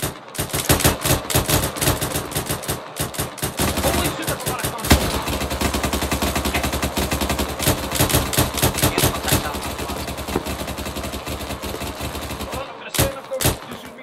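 Dense, continuous gunfire from rapid automatic bursts and single shots in ARMA 3, loud and relentless for the whole stretch, with brief pauses near the end.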